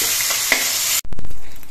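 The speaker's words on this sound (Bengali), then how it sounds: "গ্যাসের ফ্লেমটা বাড়িয়ে দিয়ে মিনিট দিয়ে ভেজে নিলেই চিংড়ি মাছগুলো ভাজা হয়ে যাবে।" Prawns frying in hot oil in a pan give a loud, steady sizzle for about a second. Then it cuts off abruptly into a few sharp clattering stirs and a softer continuing fizz.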